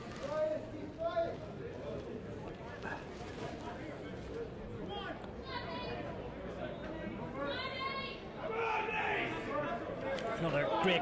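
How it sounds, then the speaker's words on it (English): Rugby match crowd of close to 1,000 at Old Wesley vs Naas, a steady murmur of chatter with scattered shouts and voices, swelling louder near the end, under nearby speech. "Another great crowd in today"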